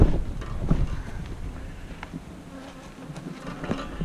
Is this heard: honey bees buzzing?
yes